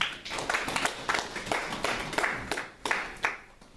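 A church congregation clapping in acclaim for Jesus, quick uneven rhythmic claps from many hands filling the room, with a few faint voices mixed in.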